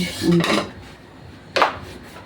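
A kawali frying pan holding a little cooking oil is handled with close scraping and clattering metal sounds, two brief bursts of rubbing and knocking separated by a quiet gap.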